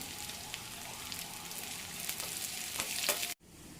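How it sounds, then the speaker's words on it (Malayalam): Small shallots frying in hot oil along with popping mustard seeds, a steady close sizzle with scattered crackles and pops that grows slightly louder before cutting off abruptly. "നമ്മുടെ കടുക് ഇവിടെ പൊട്ടിത്തുടങ്ങിയിട്ടുണ്ട് ഇതിലേക്ക് ഞാൻ ചെറിയ ഉള്ളി കട്ട് ചെയ്ത് വെച്ചത് ഇട്ട് കൊടുക്കുകയാണ്"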